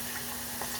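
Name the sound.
plantains frying in a small sauce pot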